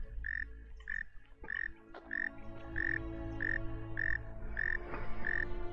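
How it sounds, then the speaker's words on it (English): A frog in The Forgotten City croaks in a steady rhythm, about ten evenly spaced, fairly loud croaks over quiet ambient background with a few faint knocks. "There's also apparently just a frog around here somewhere. Very noisy one at that."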